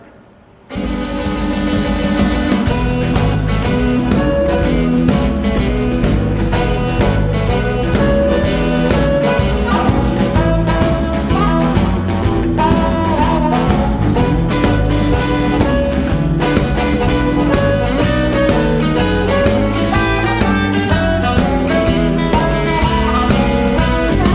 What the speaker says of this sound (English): some live recording just like that, where you can go get a band, you can hook up the guitars